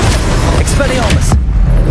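Expelliarmus disarming spell fired in Hogwarts Legacy, a short burst of bright whooshing impacts and a boom in loud game combat, cutting off abruptly near the end.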